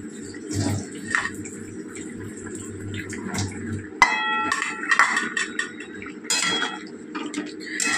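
Prawns going into a pan of simmering ridge gourd: metal clinks of a utensil against the pan, light scraping and moist stirring sounds up close, with a voice talking over the cooking.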